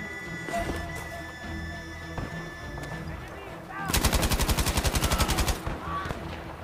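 Machine gun fire in the video game Battlefield 5: a sharp, rapid burst of evenly spaced shots lasts under two seconds, loud over quieter game ambience.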